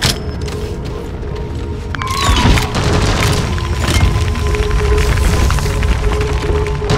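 A wooden crate smashed in the video game Deep Rock Galactic: a heavy booming crash with splintering wood, amid continuous mechanical game noise and rumble.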